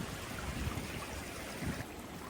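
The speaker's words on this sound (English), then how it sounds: "nothing like the sound of running water" A stream on the Appalachian Trail near Springer Mountain flows in a steady, broad rushing wash, close and continuous with no voices.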